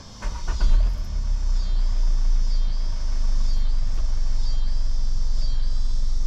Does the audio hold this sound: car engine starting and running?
yes